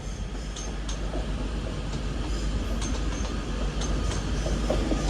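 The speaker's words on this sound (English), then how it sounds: "And this Pendolino is" A Pendolino train rolls through Manchester Piccadilly station with a steady, rumbling roar of wheels on rails, faint clickety-clack and occasional high squeals over constant station ambience.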